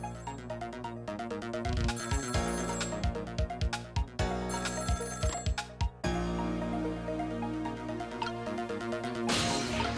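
A telephone in the Ghost Trick: Phantom Detective video game rings loudly over looping electronic game music, a steady electronic trill with repeated percussive hits and no voices.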